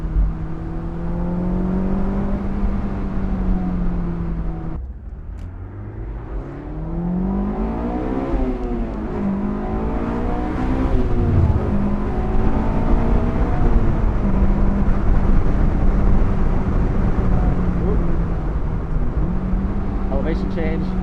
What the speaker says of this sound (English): Feels like it has a little bit of a heavier flywheel. Still feels fantastic to rev out